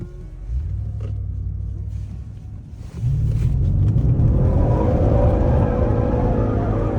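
An Audi RS6 with all-wheel drive spins a pirouette, its engine rumbling low and then swelling to a louder, sustained roar of revs with tire noise, close by.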